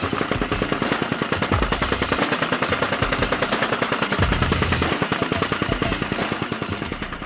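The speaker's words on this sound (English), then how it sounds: "We'll fire this up and it has a patented slow start technology." A DeWalt Power Shift battery-powered compactor running after a slow start, a loud steady rapid thumping pulse that continues throughout without pause.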